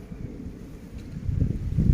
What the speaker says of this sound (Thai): แต่ออกมาวันนี้ลมแรงมากครับ